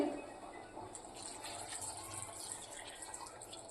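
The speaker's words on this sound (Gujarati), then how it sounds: "આપણે અડધા ગ્લાસ જેટલું આમાં પાણી નાખ્યું છે" About half a glass of water poured into spiced pav bhaji vegetables in a pan gives a faint, steady trickling splash that runs continuously and softly.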